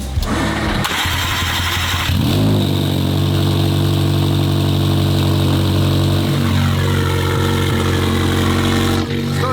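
A McLaren 720GTR carbon race car engine fires up nearby and settles into a loud, rough idle, with sharp revs rising and falling throughout and no talking over it.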